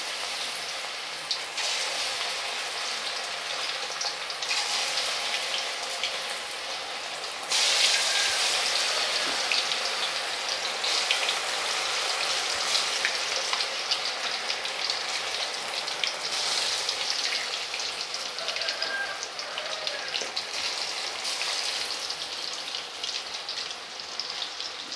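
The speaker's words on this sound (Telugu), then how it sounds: "ఆయిల్ బాగా హీట్ ఎక్కిందండి. ఇప్పుడు మనం చికెన్ని అందులో వేసుకుందాం." Chicken pakoda pieces sizzle steadily in hot oil, a dense continuous crackle that swells louder partway through and holds without pause, close by with no talking.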